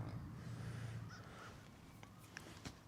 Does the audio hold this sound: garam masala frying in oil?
no